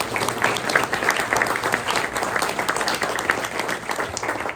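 A lunch crowd at a press luncheon applauds Coach Michael Pardo, a youth flag football coach, with steady, dense clapping that holds at an even level from start to finish, with no voices standing out above it.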